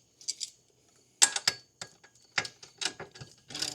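Quick bursts of metallic ratcheting as a wrench tightens the chain adjuster bolts on a Kawasaki KFX90 ATV, several short clicking runs separated by pauses, close and fairly quiet, with no talking.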